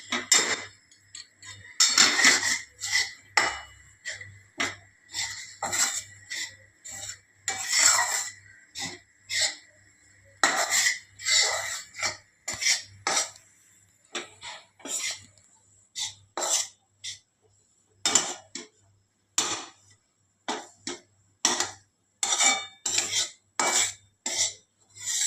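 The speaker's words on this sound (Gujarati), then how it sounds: "આ રીતે તેલમાં ચણાના લોટને મિક્સ કરીને એને હલાવવાનો છે." Gram flour being stirred and roasted in oil in a pan, a repeated rhythm of metal spoon scraping and clinking against the pan, in short bursts with quiet pauses, close and fairly soft.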